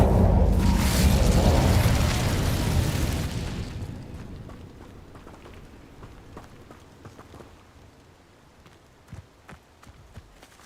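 A fiery burst from the Incendio spell in Hogwarts Legacy, a loud whooshing blast for the first few seconds that fades into quieter scattered footsteps and small impacts.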